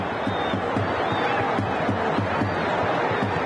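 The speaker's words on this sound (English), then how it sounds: "Let's listen in just a bit, if we can, to the chants there down in Tahrir Square." Large crowd chanting in rhythmic unison in Tahrir Square, a steady repeated beat of voices under distant roar, loud and continuous with whistles and scattered shouts.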